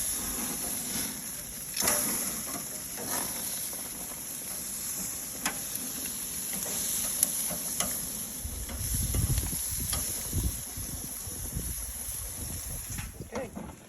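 Steak, vegetables and jalapeños sizzle on an outdoor grill during a January snowstorm, a steady hiss with scattered crackles and a few clinks, heard close and at moderate volume with no talking.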